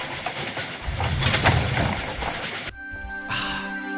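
A train in Tomb Raider IV Remastered rumbles and rattles as it pulls out of a desert railroad station, with a dense clattering roar. The sound cuts abruptly to a quieter, tonal hum with a later burst of hiss.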